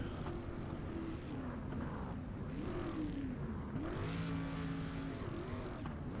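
A street stock race car in a sim racing game drones at a steady, moderate level, its engine pitch rising and falling as it laps the track.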